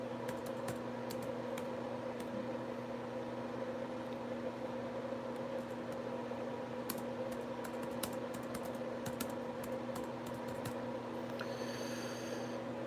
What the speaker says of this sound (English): it's how I'm going to type it out here